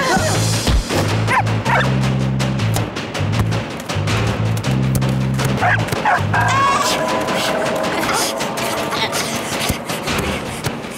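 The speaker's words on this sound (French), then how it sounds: "Le chien! Il y a un chien sur le terrain!" A dog barks on a street football field in a French cartoon, with repeated yapping barks over busy music and other sound effects.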